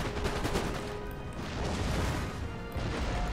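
Massed musket volley fire on a Napoleonic-era battlefield in the strategy game Empire: Total War, a continuous rattling crackle of many shots blending into a dense roar throughout, with no talking.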